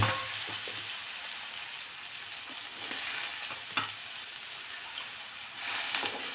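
Val bean pods tossed into a hot tempering of whole spices, giving a steady close sizzle and hiss with a few stirring scrapes, swelling louder near the end.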